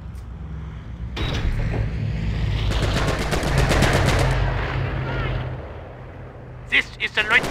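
Gunfire from a machine gun in Company of Heroes, a World War II battle game set in 1944, rattles loudly over rumbling battle noise and engine drone, with rapid bursts in the middle and a few sharp shots near the end, under talking voices.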